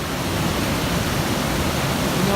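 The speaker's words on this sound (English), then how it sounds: "the water gets going so crazy around here" A raging river churns loudly and continuously along the Pacific Crest Trail, a dense, steady roar of rushing whitewater close by with no voices.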